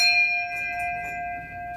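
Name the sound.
bell ringing in a tattoo shop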